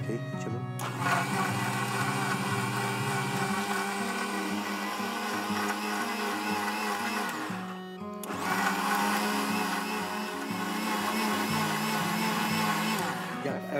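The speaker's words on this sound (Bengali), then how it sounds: "ভাইয়া আমরা এটা এখন একটু ব্লেন্ড করে নিই।" An electric blender whirs loudly and continuously at close range on a cooking show, its motor pausing briefly partway through before starting up again at full power.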